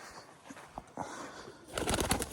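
A pigeon in a coop gives soft coos amid faint rustling, quiet at first, then a burst of nearby wing flapping and scuffling near the end.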